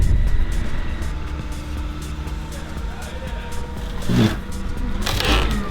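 A friend's new company car pulls up outdoors, its engine a steady rumble with brief surges of louder motor and road noise near the end.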